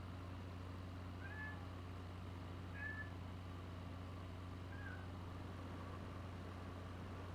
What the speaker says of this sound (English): It's the cat. He's talking.